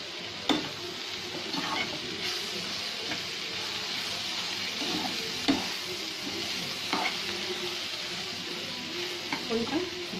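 Onion curry cooked with milk sizzles and fries in a pan while being stirred, a steady close crackle broken by several scraping stir strokes and soft clinks, with no talking over it.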